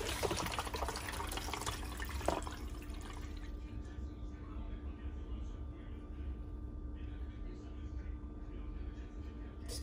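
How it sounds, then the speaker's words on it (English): Water pours and splashes steadily through a funnel into a container, a continuous trickling flow with a brief clunk near the start. "And then I'm going to pour the water."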